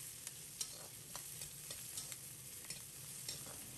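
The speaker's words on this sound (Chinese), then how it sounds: "放入木耳、辣椒，在锅中简单翻炒扒拉几下" Wood ear mushrooms and chili peppers stir-fried in a hot oiled wok, a steady sizzle broken by repeated scraping clicks of the spatula, close and fairly quiet with no voices.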